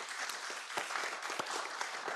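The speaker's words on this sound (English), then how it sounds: "panelists, I think you all deserve a round of applause" A conference audience applauds panelists after a discussion on climate-change insurance, a moderate, steady patter of many hands clapping in a room, with individual claps standing out here and there.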